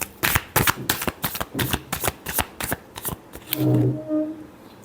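Tarot cards are shuffled in a quick run of about a dozen crisp riffles, close and clear, ending with a short pause and a brief murmuring voice.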